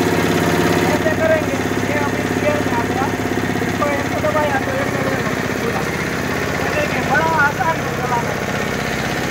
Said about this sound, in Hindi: ये देखिए एक बार चालू करके देखते हैं हम कैसे चलता है।